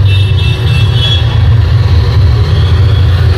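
Road traffic noise plays from a video in the background, a loud steady low rumble of car engines close to a wireless mic with noise cancellation switched off, with no voices heard.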